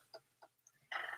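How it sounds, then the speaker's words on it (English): Backyard chickens cluck softly, a few short close clucks followed by a louder burst of squawking at the end. "I have to go put my chickens away"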